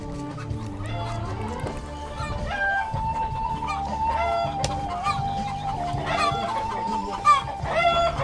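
Several chickens cluck and a rooster crows nearby at a highland summer pasture, with mixed farmyard calls overlapping at moderate loudness and no talking.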